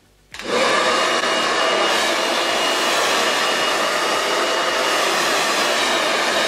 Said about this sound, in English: I always put on the heat on my hair dryer and then I blow dry over my rollers